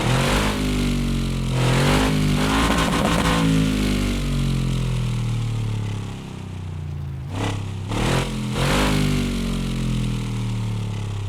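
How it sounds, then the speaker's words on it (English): A knockoff GMC engine in the video game Car Mechanic Simulator 2026 revs up and down in repeated swells, loud and close, with a steady low idle between throttle blips and no talking. "let's listen to the engine real quick"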